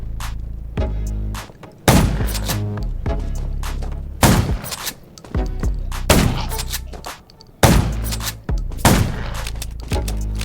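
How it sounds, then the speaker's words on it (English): Heavy gunfire in the zombie-survival game Undawn, several loud bursts of rapid shots spaced a couple of seconds apart, each ringing out with a long echoing tail and no talk over them. "Gunshots will attract."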